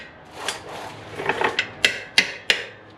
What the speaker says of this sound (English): Again, 3-pound hammer.